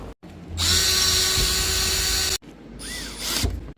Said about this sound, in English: Now I'll just drill 5 holes through the plywood to mount into the frame.